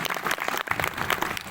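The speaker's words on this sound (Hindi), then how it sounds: "एक बार जोरदार ताली बजाइए एक बार।" An audience claps loudly at an Indian Army Vijay Diwas ceremony honouring war widows and veteran soldiers. The applause is dense and sustained throughout.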